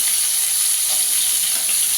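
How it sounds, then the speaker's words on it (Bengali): Potato, papaya and sweet potato pieces frying together in a pan for Bengali shukto, giving a steady close-up sizzle that stays even throughout with no voices. "একসঙ্গে একটু ভেজে নেবো ভালো করে।"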